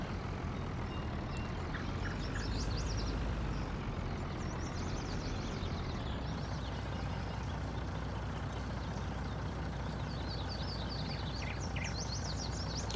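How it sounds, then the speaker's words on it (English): Birds chirp in short, scattered bursts in a Farming Simulator 19 game's summer countryside, heard over a steady low vehicle or engine rumble that runs throughout. "You can hear the birds chirping in the background."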